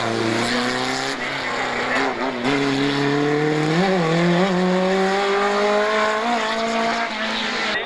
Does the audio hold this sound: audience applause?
no